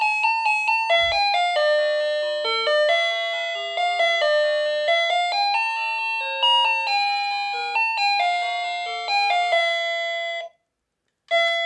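A long electronic doorbell melody plays many quick bell-like notes in a steady tune, loud and close, ending with a short pause and one more note.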